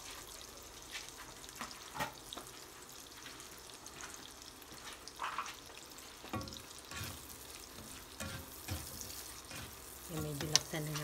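Garlic and onion fry in a pan with a soft, steady sizzle, broken by scattered clinks and stirring scrapes close by, and a brief water splash near the end.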